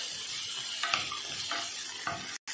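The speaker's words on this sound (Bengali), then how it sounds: "আর এরকম হালকা হালকা নাড়তে থাকতে হবে, নাড়তে নাড়তে দেখবে পেঁয়াজের কালারও চেঞ্জ হতে থাকবে" Onions and cashews fry in a pan as they are gently stirred, a steady sizzle with periodic scraping strokes of the spoon, cut off abruptly just before the end.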